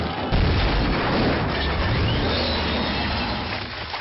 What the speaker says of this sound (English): another vehicle ends up smacking their van